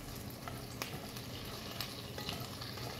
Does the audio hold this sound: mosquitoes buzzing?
no